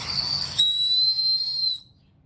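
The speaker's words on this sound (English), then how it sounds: "It also has a whistle," An emergency whistle on a Salomon 12L ultralight running vest gives a shrill, piercing blast at close range, holding steady for almost two seconds before it cuts off into silence.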